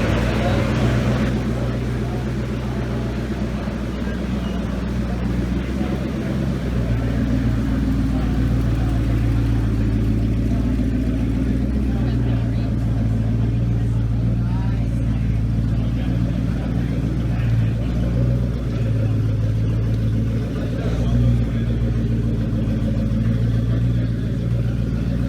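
A twin-turbo Gen 1 Coyote V8 runs on a dyno, a loud, sustained engine drone that holds steady with slight surges, close and continuous throughout, with a voice talking over it.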